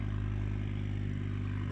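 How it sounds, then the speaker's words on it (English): A Ford Focus ST fitted with a large custom exhaust gives off a steady, loud low rumble at idle, constant and unbroken throughout with no voices over it. "That exhaust is huge and sounds absolutely amazing."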